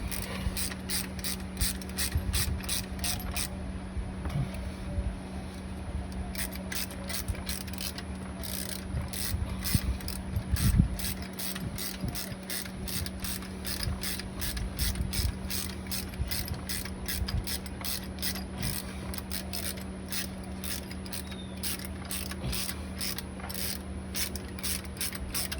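Ratchet wrench tightening alternator bracket bolts on a small-block Ford engine, rapid steady clicking strokes repeated in bursts over about twenty-five seconds, close up with a low background hum and occasional metal clunks.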